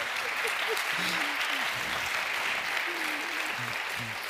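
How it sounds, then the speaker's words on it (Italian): An audience at a talk on Spinosaurus applauds a team that assembled a Spinosaurus skeleton, giving steady, dense clapping across the whole stretch while a voice speaks over it intermittently. "facciamo un applauso a questi ragazzi"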